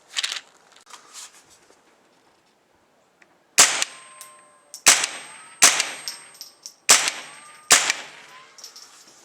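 CCI Subsonic .22 LR rounds are fired from an AR15 at an outdoor range: after a few faint earlier pops, six sharp, close, fairly quiet cracks come at a steady pace about a second apart, each trailing off quickly.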